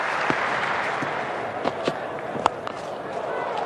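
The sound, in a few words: cricket crowd applauding a batsman's half-century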